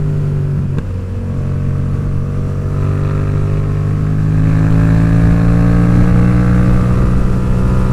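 Yamaha XSR700 motorcycle with an aftermarket exhaust, remapped, riding on open roads in the UK Peak District: a steady, loud engine drone that rises gradually in pitch under acceleration, with a brief dip near the start and no talk.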